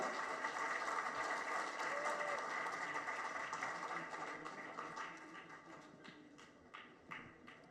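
An audience applauds actor Vikram Prabhu at a stage event, a dense clatter of clapping that starts strong, then thins and fades, with a voice speaking faintly over it.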